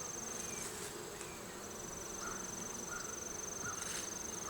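Busy, steady buzzing of many honeybees at an open hive during inspection, with a thin high whine running through it, close and continuous, with faint outdoor noise underneath.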